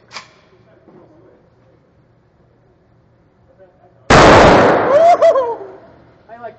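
A Saiga 12 gauge shotgun fires a single loud, close blast after a quiet stretch, its report ringing out briefly before voices speak.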